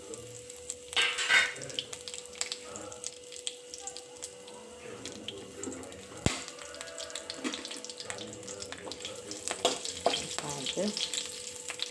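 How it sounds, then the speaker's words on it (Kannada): Onions and spices frying in a mix of oil and ghee for ghee rice with paneer masala, a steady close sizzle with watery hiss and occasional stirring clinks, and brief speech now and then. "ಎಣ್ಣೆ ಪ್ಲಸ್ ನೆಯ್ ಅವನು ಕಾಯಿತು"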